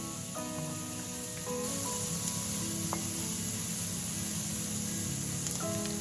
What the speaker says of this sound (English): and stir fry for 2 minutes.